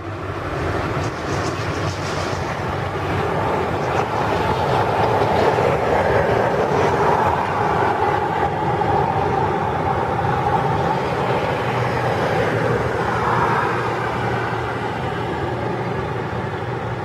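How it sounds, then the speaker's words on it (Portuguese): Heavy trucks pass at speed through a residential neighborhood in Vila Prudente with a continuous loud rumble and roar. Rattling and clattering swell and fade over about seventeen seconds, with no talking. "Olha a velocidade que esses caminhões passam, ó."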